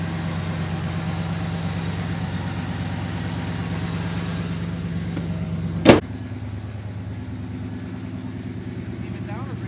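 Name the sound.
V8 car engine exhaust idling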